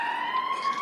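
A passing emergency vehicle's siren wailing in a steady, rising tone, clear but somewhat distant, with no voices over it.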